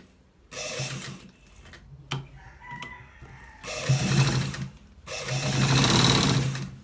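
A sewing machine stitching shirt shoulders whirs in three separate bursts of increasing length, with quieter gaps between runs and a brief tonal sound in one pause.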